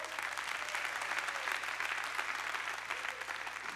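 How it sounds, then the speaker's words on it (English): A church congregation claps for a pastor and his wife, a sustained, even wash of applause heard at moderate distance, with no speech over it. "Can you give them a big, big clap?"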